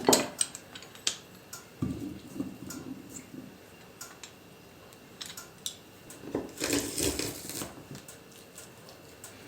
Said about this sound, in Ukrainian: Саме перше, що нам потрібно зробити, це надавити наш чесник.